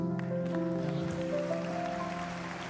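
A church congregation applauds for the pastor's husband, a soft, rain-like patter of clapping beneath sustained music tones.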